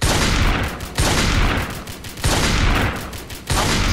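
Heavy artillery fire in the Roblox game Mechanism, with four loud booming blasts about a second apart, each trailing into a long roaring rumble.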